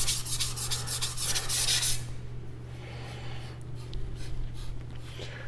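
A CCK Chinese cleaver is drawn across a whetstone in repeated rubbing strokes, loud and close for the first two seconds, then a quieter gritty scrape over a steady low hum.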